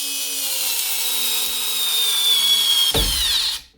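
A small electric screwdriver from an AliExpress unboxing drives screws with a steady high whine that rises slightly in pitch, then cuts off abruptly near the end after a brief clack.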